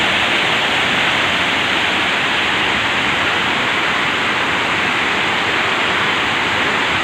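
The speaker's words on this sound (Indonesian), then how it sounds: "inilah dia air terjunnya, sangat keras dan sangat indah sekali." A loud waterfall in a village in Karo, North Sumatra roars as a dense, steady wash of falling water. It is close and overwhelming and continues unbroken, with no other sounds standing out.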